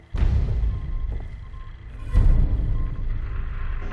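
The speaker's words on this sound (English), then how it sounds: "What you're hearing there are radio signals from all the nearby ASAMs." Radio signals from nearby ASAM sensors in the Fallout 4 game, a steady loud crackling static hiss with a sharper burst midway, continuous throughout with no talk.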